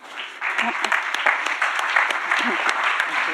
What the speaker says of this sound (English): Could we please give an applause?